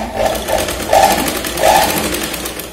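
Sewing machine stitching a princess cut blouse, close and loud with a rapid mechanical whirring and rhythmic pulsing of the needle, running continuously without speech.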